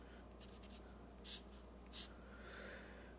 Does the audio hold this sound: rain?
no